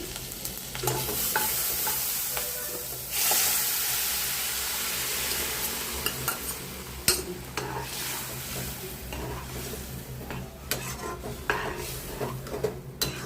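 Dried chilies and curry leaves crackle and sizzle in hot oil, with steady frying hiss, occasional pops and a spoon clattering against the pan.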